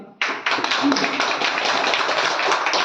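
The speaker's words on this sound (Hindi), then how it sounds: "सबके लिए जोरदार ताली" Dense, steady clapping from many participants in an online meeting starts abruptly and continues at an even level to the end, with no one speaking over it.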